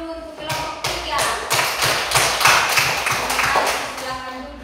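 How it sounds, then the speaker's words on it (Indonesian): Group 3 gets applause from a primary school classroom in Kupang. A dozen or so rhythmic, fairly close claps come from a small group, with a few voices murmuring underneath. "Tepuk tangan dulu untuk kelompok 3."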